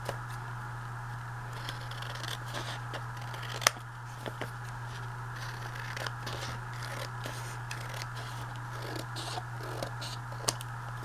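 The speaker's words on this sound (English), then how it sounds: "I'm going to quickly again cut out our second one here" Scissors cut paper shapes for a collage in a quiet room: a run of soft, close snips and papery scrapes over a steady low hum, with no talking.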